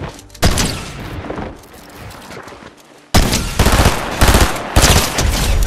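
Submachine gun fire in a ranked solo shooter match comes in loud, rapid bursts, with a short pause and then several more sustained volleys close up.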